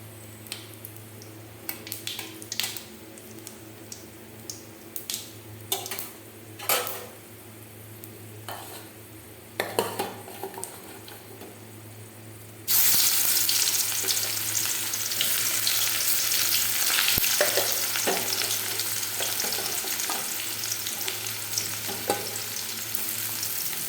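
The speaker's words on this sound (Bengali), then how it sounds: "পেঁয়াজটা একটু ভেজে নিয়ে আমি দিয়ে দেবো এরকম" Onion fries in oil for a country chicken curry: quiet clinks and scattered taps at first, then a sudden loud, steady sizzle as the onion hits the hot pan, continuing to the end without speech.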